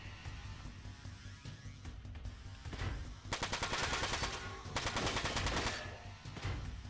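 A missile attack in Front Mission 4 sets off rapid rattling bursts of fire over a low rumble, growing loud in two sustained volleys in the latter half.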